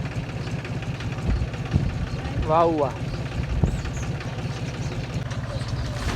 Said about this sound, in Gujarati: અને ટ્રેક્ટર તૈયાર થઈ ગયું